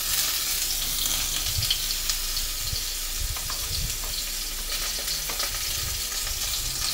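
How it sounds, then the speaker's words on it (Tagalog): Carrots sizzle and crackle steadily in a hot pan as they toast, with intermittent stirring scrapes over a continuous close frying hiss. "medyo toasted ko muna itong carrots"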